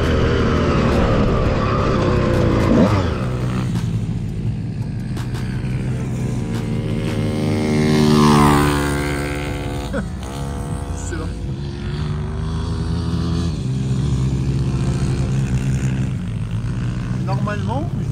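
A 2000 motocross motorcycle, a Suzuki RM125 or Honda CR125 two-stroke, revs out on a meadow, its loud buzzing engine rising and falling in pitch through gear changes, close and continuous for the whole stretch, with a voice speaking over it.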